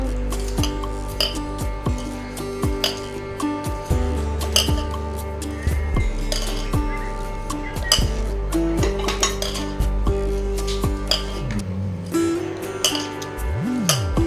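Vegetable momo filling with salt and red chilli powder mixed in a bowl, a steady run of close metal clinks and scrapes of a spoon against the dish, with no voices.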